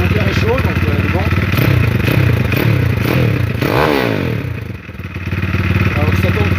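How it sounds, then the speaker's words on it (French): A warm motorcycle engine, a 150 cc machine, revs up nearby in loud, repeated throttle blips with a brief dip before climbing again, along with some mechanical clatter. "je vais pouvoir accélérer un petit peu pour vous montrer."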